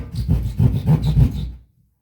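A sheetrock saw cuts an outlet hole in drywall with about half a dozen quick, rhythmic rasping strokes, close and fairly loud. The strokes stop abruptly into silence.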